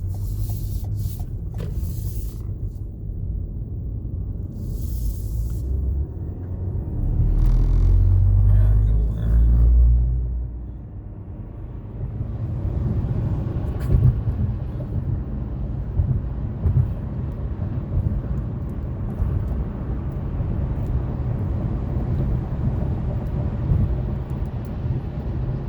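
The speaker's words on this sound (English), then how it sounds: "Pace car." A pace car passes on a race track, its engine a loud low rumble that swells to a peak around the middle and then settles into a steady drone with wind buffeting the microphone.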